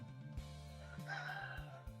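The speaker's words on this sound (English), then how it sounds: "if you hear from time to time a very loud rooster, it's because it's a very loud rooster out there" A rooster crows outdoors on a cloudy day, a loud, harmonic, drawn-out call with a rising, strained middle, heard alone and fairly close.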